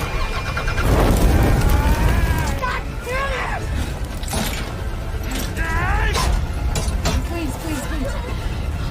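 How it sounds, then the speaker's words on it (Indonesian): A car engine cranks and catches amid creaking, clanking mechanical noises, loud and close, with voices speaking over parts of it and a roaring fire-like rumble underneath. "Mobil mereka akhirnya bisa menyala dan bergegas pergi dari tempat itu melewati kobaran api."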